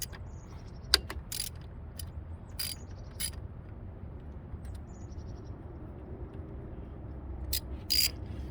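A ratchet works loose 10 mm bolts on the power steering hoses of a Honda or Acura, heard as sparse, sharp clicking bursts scattered over a quiet, low background hum.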